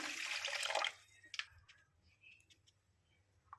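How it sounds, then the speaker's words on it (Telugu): Two cups of water pour into a pan to make sugar syrup for gulab jamun, a brief splashing rush of about a second, followed by a few faint clinks in a quiet kitchen. "టూ కప్స్ వాటర్ వేసాను"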